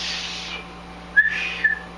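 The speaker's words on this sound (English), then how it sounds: "I can whistle, but only in, not out." A breathy rush of air, then two short, thin whistle notes whistled while breathing in, each clear and close, separated by a brief pause.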